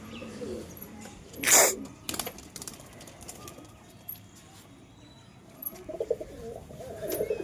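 Low, soft pigeon coos rise in short bursts amid background murmuring, with a brief sharp noise and a few clicks between them.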